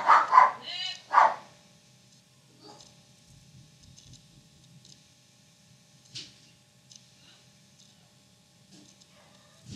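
A dog barks loudly several times in quick succession near the start, then the scene settles into quiet with faint shuffling and occasional soft sounds.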